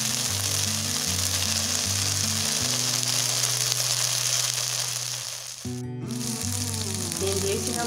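Curry leaves dropped into hot oil for a spicy chicken fry, a loud, dense, continuous sizzle close up, with a brief dip partway before the crackle returns, under background music.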